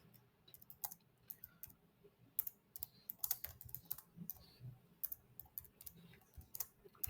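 Computer keyboard typing while entering an accounting narration, quick irregular key clicks in short bursts, faint and close, with no talking.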